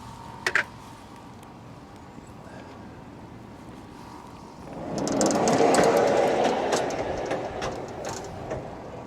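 A Norwood LumberPro HD sawmill carriage rolls along its bed, a broad rumbling mechanical run that swells in midway and holds steady, with rattling clicks on top, after a quiet stretch opened by a couple of sharp knocks.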